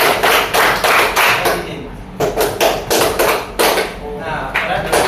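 Students in a classroom clap in counted groups, loud crisp bursts of many hands striking together in repeated clusters with short pauses between, as a teacher calls out numbers.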